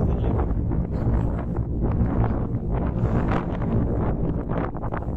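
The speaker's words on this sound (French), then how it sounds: "il y a environ un vent de malade, mais c'est pas grave." Strong wind buffets the microphone in a continuous low, rumbling roar with gusty surges throughout, and no talking.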